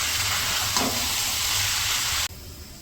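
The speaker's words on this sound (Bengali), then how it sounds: "এই পাশে হচ্ছে মাংসটা কষাই নিছি, মাংস কষানো হয়ে গেছে" Meat sizzles loudly and steadily as it is fried down in a pot over an outdoor village stove at a family picnic, a continuous close hiss with one faint knock before it cuts off abruptly near the end.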